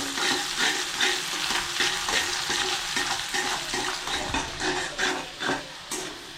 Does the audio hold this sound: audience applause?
no